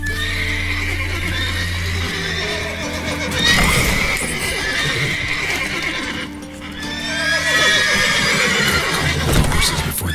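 Horses in The Witcher 3: Wild Hunt whinny and neigh loudly several times over a steady clip-clop of hooves, with game ambience filling the background throughout.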